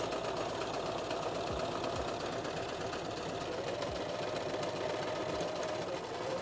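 A sewing machine running a seam on a button-down shirt, a faint continuous mechanical whir with soft rhythmic needle thumps over a steady background hum.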